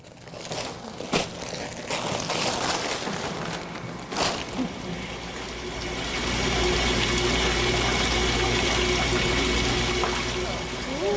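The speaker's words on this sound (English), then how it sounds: "So that's how you get water in there." Water runs into a home brewing mash tun with a steady rushing, pouring flow that swells louder midway and holds, following some earlier clattering and handling noises.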